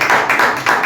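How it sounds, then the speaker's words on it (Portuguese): A church congregation claps together in a short burst, a dense patter of hands that swells and dips over about a second, fairly close and without speech. "Uma salva de palmas."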